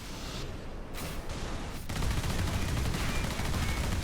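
Plasma gun in the game Warhammer 40,000: Space Marine firing in dense, sustained bursts, loud and close, the barrage swelling heavier halfway through with battle noise mixed in.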